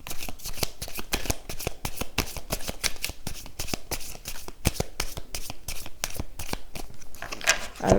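A deck of oracle cards riffled and shuffled close up, a fast continuous run of crisp papery flicks with no talking.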